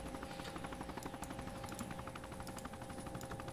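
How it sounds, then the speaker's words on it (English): A helicopter in a video game, heard as a steady rotor drone with rapid rhythmic chopping and sharp gunfire-like crackles over it, fairly faint and with no speech. "I hear the hijacker chopper."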